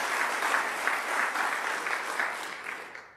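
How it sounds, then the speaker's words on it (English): Steady applause from a college convocation audience, continuous clapping that holds for a few seconds then fades out. "Let's give them a round of applause"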